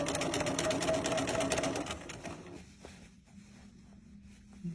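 A BERNINA sewing machine fitted with a leather roller foot runs a continuous stitching whir for about two and a half seconds, then stops, leaving quieter handling noise.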